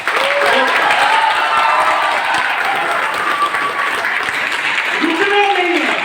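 Large audience at a motivational speech in Patna, Bihar, clapping loudly and continuously throughout, with a voice briefly audible over the sustained applause.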